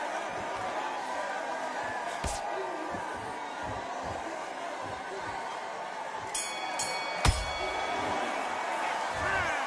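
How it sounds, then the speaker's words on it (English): A boxing ring bell sounds to end a round in a professional bout, with sharp metallic dings ringing out over steady crowd murmur and a commentator's voice. "he is glad to have heard that bell"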